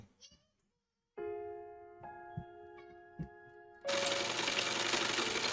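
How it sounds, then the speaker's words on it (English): A sewing machine in a video game starts up after a few soft taps and runs with a steady mechanical hum, ending in a sudden louder burst of noise. "She was on a sewing machine, working on a piece of clothing."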